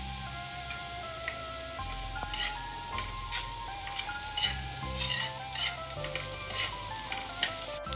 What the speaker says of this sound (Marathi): हे बघा इथे आपला कांदा छान परतून झालेला आहे।